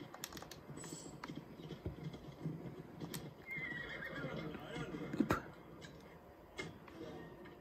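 A horse, a unicorn mount in the video game Assassin's Creed Odyssey, neighs and its hooves clip-clop as it is called, heard alongside clicking keys and game sounds.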